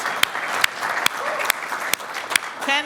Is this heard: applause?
yes